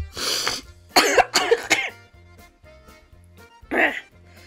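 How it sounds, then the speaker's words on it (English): Several harsh coughs in quick succession, close to the microphone, with a short pause before one final cough near the end. "Let's count count how many times I cough and gag"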